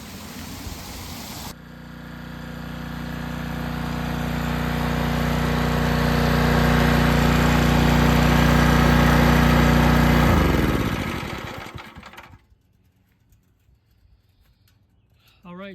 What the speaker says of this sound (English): this has been pumping for days, and it's just about the level I want it